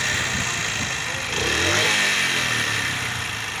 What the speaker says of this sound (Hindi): और दोस्तों ये स्टार्ट कर दिए हमने मोटरसाइकिल